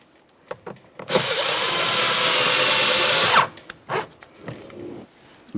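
A power drill drives small screws into the front interior door panel of a 2007-2017 Jeep Patriot, making one close, steady whir lasting about two seconds, followed by a few light clicks and taps.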